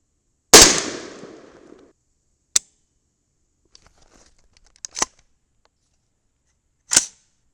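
A single loud, sharp blast from a 300 Blackout rifle with a Ballistic Advantage 10.3-inch Hanson barrel rings out and decays in a long echoing tail, followed by several brief, crisp clicks and snaps spaced seconds apart.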